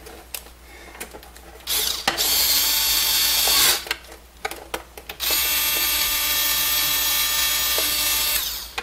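A magnetic screwdriver drives screws into a roller controller in two long powered bursts, separated by short clicks and handling noises, loud and close.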